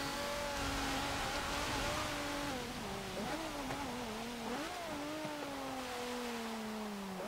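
A 1986 Dodge Shelby Omni GLHS in Forza Motorsport 7 revs steadily, its engine pitch rising and dipping with gear changes and throttle, loud and close throughout with no talking.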